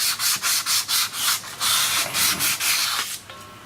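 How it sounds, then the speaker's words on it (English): Emery cloth is rubbed over a brake part from a 2008 Ford Edge, giving a rhythmic series of close, loud scratchy back-and-forth strokes, about a dozen in quick succession, with no talking. "Give it a quick sanding."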